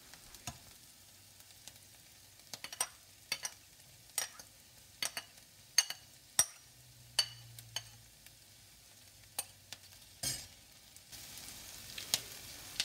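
Garlic stirred in a hot pan with sun-dried tomato and onion, a quiet steady sizzle under repeated sharp clicks and scrapes of a utensil against the pan, with a low hum running through the middle.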